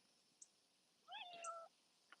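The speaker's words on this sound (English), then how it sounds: "You wanna come out here? My cat." A pet cat meows indoors during a quiet home livestream, one drawn-out meow with a rising then falling pitch, fairly close but soft, with faint clicks before and after.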